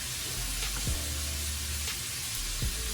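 Cubed steak bites browning in oil in a pan for garlicky rosemary steak bites, a steady close sizzle with a few brief clicks and scrapes of pieces being turned.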